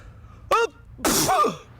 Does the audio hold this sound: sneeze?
yes